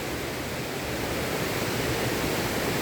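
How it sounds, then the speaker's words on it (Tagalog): Strong rushing water crashing over large rocks in the Austrian mountains near Saalbach, Salzburg, a loud, steady broadband roar heard close up and alone, with no voices. "Agos ng tubig."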